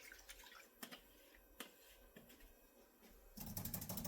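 A paintbrush is swished and tapped in a water container during a rolling-hills landscape painting, giving faint watery clinks and drips that build into a fuller splashing rinse at the end.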